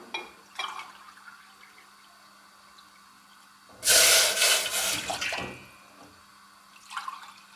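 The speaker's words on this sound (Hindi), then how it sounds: "ये वाले 2 कप पानी डालूंगी।" Water from a tap pours into a pan on a stove for Kashmiri pink tea, a loud gushing burst of about a second and a half after quiet kitchen ambience, then a brief faint splash near the end.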